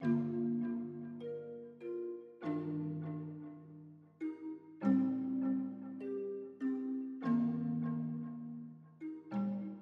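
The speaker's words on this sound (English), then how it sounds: "And then I added these 2 ethnic and kalimba sounds that sound like this." Plucked, bell-like kalimba and ethnic tuned notes ring out in a gentle repeating melodic pattern, each note decaying softly, no voices.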